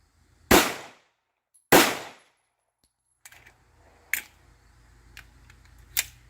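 Girsan 1911C .45ACP pistol firing aluminum-cased rounds: two loud, sharp close-range shots about a second apart, followed by quieter clicks and clattering handling sounds with a few smaller snaps.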